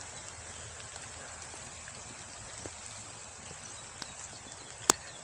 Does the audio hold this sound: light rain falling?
yes